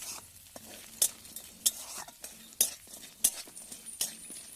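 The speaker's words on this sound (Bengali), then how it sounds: "আমি এখানে কাঁকড়া ভেজে নিচ্ছি। কাঁকড়াগুলো ভালো করে লাল লাল করে ভেজে নেব।" Crabs being fried in a pan for a taro-leaf sour dish, a soft sizzle under repeated scraping strokes of a metal spatula, about six sharp clinks at a roughly steady rhythm, close and fairly quiet.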